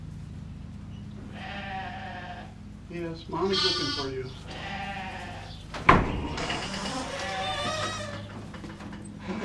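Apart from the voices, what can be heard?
sheep and lambs bleating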